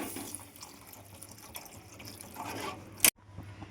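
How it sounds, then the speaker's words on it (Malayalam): Water pours steadily into a pan for about three seconds, a soft continuous splashing that ends with a brief sharp clatter before quieting. "അതിലേക്ക് ഇനി വെള്ളം ആവശ്യത്തിന് നമ്മൾ ഒഴിച്ചു കൊടുക്കണം."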